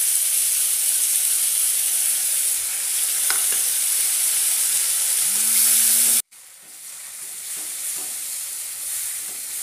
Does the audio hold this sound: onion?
yes